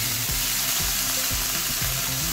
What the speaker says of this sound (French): Avec le fond d'huile, je vais venir faire frire mes saucisses comme ça.